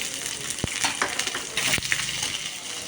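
Okra sizzles and crackles in a hot pan, with a few sharp clinks of a utensil against the pan over the steady frying hiss.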